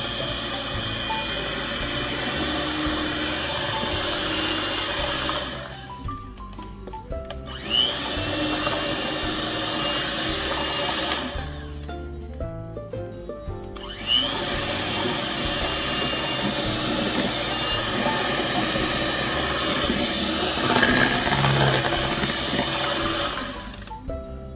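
An electric mixer whirs loudly and steadily through pie filling, cutting out briefly twice and starting again, with no talking.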